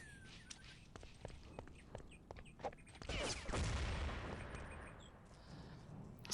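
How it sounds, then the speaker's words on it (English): Grenade explosion in a competitive first-person shooter match, a moderate blast with a rumbling tail midway, heard among quick footsteps and scattered distant gunshots. "Sneaky nade there from Rocket"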